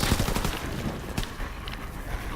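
Rapid machine-pistol fire in Call of Duty: WWII Nazi Zombies, a quick burst of close, crackling shots at the start followed by a sharper report and a softer rattle, alone without talk.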